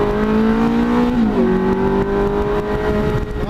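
A Ferrari engine revs hard, its steady droning tone dipping and holding as the car pulls away at speed on gravel, loud and close.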